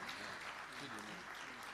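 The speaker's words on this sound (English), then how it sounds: "give a round of applause for our very own Onyeka Onwenu" An audience at a conference gives a round of applause for Onyeka Onwenu, a faint, even patter of many hands, with voices mixed in.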